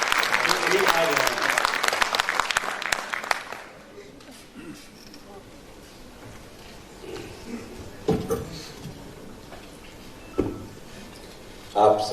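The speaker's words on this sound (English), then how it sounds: "Give him a big round of applause, my friends." Audience applause for a speaker invited to address a gathering at a medical conference at AIIMS Delhi, loud and dense for about three seconds before fading to quiet room noise with scattered sounds and some talk.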